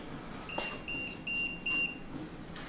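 An EMF meter gives four short, evenly spaced high-pitched beeps during a ghost investigation at a historical society building, faint against a quiet room hum.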